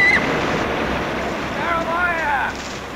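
Steady rush of water and wind around boats moving downriver, a continuous outdoor wash with a faint high squeal now and then.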